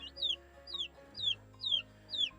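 Chickens cluck in a steady run of five sharp, high calls spaced about half a second apart, close by, with a low hum underneath.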